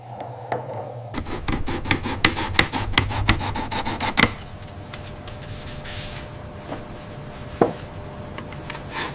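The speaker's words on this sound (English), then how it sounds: "The final stage is buffing the oil finish, bringing out that deep, soft shine you see appearing now." Oil finish being buffed onto a hand-carved wooden SUV car model, giving close, steady rubbing and rasping strokes in a quick irregular rhythm, with a few sharper taps and scrapes and no talking.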